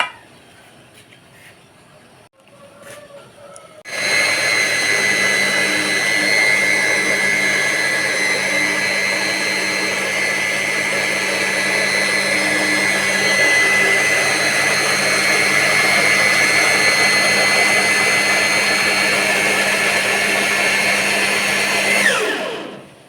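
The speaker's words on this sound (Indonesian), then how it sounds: "Setelah itu saya akan blender kembali ya." A kitchen blender whirs steadily for nearly twenty seconds while mixing cake batter for nona manis, starting abruptly after a short quiet moment and running loud and even before cutting off at the end.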